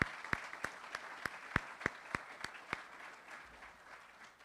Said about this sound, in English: So how about a round of applause for Keith?